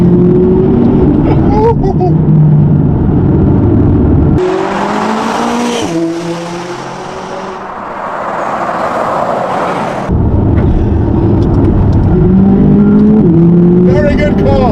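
A McLaren 570GT sports car accelerates hard, its engine loud and close as it climbs through the gears in rising sweeps, easing through the middle before surging again, with people talking over it.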